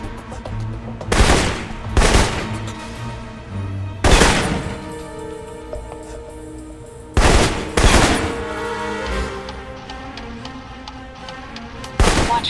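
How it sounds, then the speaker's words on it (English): Assault rifle fire in the espionage shooter Alpha Protocol: short, sharp bursts of shots crack out close and loud at irregular intervals, with quieter pauses and a soft background hum in between. "For long-range encounters, the assault rifle's the key."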